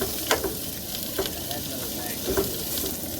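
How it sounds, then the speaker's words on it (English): Onions sizzle and fry in a pan at a camp cooking setup, a steady close hiss with a few brief stirring clicks and scrapes throughout. "I just put them in together, cook them down. I like my onions cooked down quite a bit."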